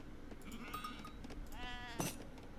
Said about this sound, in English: Look at all those sheep.